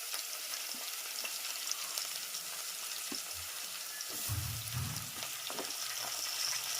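Radish, cucumber and other vegetables fry in a pan, a faint, steady sizzle broken by a few soft scraping stirs and clatters, with no talking.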